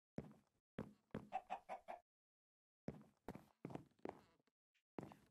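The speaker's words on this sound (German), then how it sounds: "Dann habe ich aber einen Huhn übersehen." A Minecraft chicken clucks in short, soft bursts: a quick cluster of several clucks, a pause, then a few more, alone with no talk.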